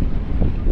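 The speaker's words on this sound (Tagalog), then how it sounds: "Sobrang mahangin." Strong wind buffeting a microphone outdoors, a loud continuous low roar with gusty fluctuations and no talk.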